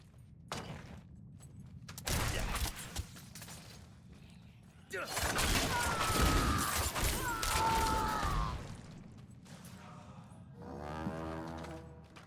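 Bursts of crashing explosions and clattering impacts from a Rogue dashing through enemies in Diablo 4, with loud blasts in dense clusters and a sustained roaring barrage in the middle, then a fading rumble.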